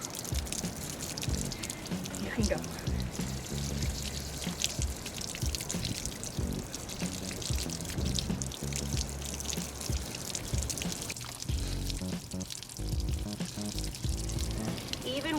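Water runs and splashes steadily over a prosthetic foot being rinsed at the beach, a continuous pouring, trickling wash with a brief spoken remark over it.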